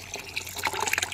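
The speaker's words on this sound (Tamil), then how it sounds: "இதில் வந்து கொதிக்க வச்ச தண்ணியை நம்ம இப்போ அப்படியே கலந்துக்கலாம்." Boiled water is poured into a clove mixture being made as a plant root-pest remedy, a brief, close splashing trickle of liquid lasting about a second.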